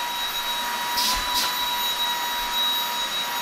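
A Moosoo cordless vacuum cleaner runs continuously close by with a steady high-pitched motor whine and airy suction hiss, plus a couple of brief bumps partway through.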